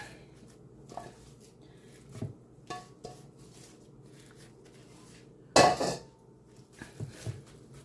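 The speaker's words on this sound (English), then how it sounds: "gonna take all of this meaty goodness, put it in a loaf pan." Ground meat mixture is dropped and pressed into a loaf pan, heard as scattered soft taps and scrapes of utensils on metal with one loud clattering thud midway, all near and without speech.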